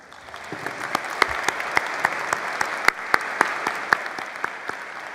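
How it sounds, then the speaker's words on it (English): An audience at a university commencement ceremony applauds steadily, the dense clapping close and even, with some louder individual claps standing out at a regular pace. "I ask that you please join me in a round of applause for Dr. McGowan and Dr. Masker."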